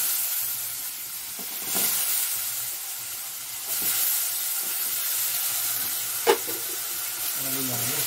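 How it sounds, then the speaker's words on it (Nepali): Potatoes fry in a pan over a traditional Gorkhey wood-fired clay stove, a steady soft sizzle with occasional stirring scrapes and one brief sharp clink near the end, moderately close. "आलुलाई हाल्छु"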